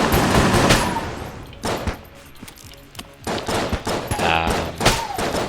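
Rapid gunfire from the video game Enter the Gungeon, loud bursts of shots and volleys in quick uneven clusters separated by short pauses, with no talking.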